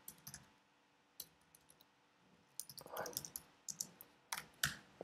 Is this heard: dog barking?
no